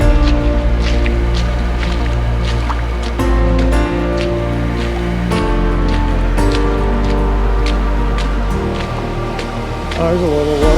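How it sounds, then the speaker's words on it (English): A small waterfall in the Subway canyon in Utah gives a loud, steady rushing splash of falling water, constant and close, under a sustained tonal layer, with no voices. "Oh, there's a little waterfall right in there."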